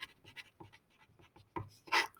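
Marker or pen writing out a decimal approximation on a board, quiet scratchy strokes in short irregular bursts, ending with a louder squeak.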